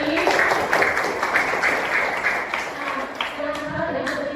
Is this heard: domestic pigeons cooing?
no